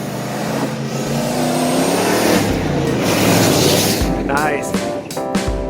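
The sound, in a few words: 1995 Ford F-150 with TTB suspension driving fast on dirt road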